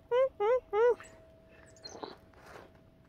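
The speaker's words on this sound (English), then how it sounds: "Got a pair of nuthatches up here." A pair of nuthatches near a trail give three loud, nasal, evenly spaced calls close by, followed by faint rustling and soft scattered sounds.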